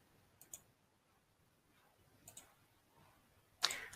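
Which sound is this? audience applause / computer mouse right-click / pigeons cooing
computer mouse right-click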